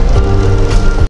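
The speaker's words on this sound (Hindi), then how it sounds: "ये कैट्स एंड डॉग्स वाली बारिश होना शुरू हो गई है।" Heavy rain pours down during a road journey toward Muzaffarabad, a loud, dense, continuous roar of downpour that fills the scene and then cuts off abruptly.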